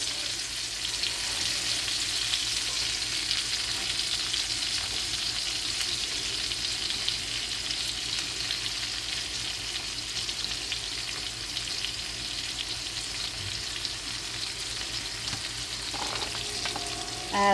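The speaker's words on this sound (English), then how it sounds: "I'm going to go ahead and add the onions." Onions sizzle and fry steadily in a pan while Somali rice with greens is being prepared, a dense continuous hiss with a few faint clinks and stirring scrapes near the end.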